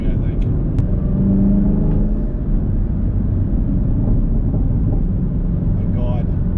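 A 2021 Chevrolet Camaro ZL1 1LE driven hard through turns on smooth paved road, its engine a loud, steady low rumble that fills the whole stretch, heard from inside the car.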